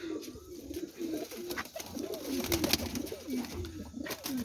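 Domestic pigeons kept for flying coo repeatedly at close range, soft throaty rolling calls overlapping one another against a faint background hum.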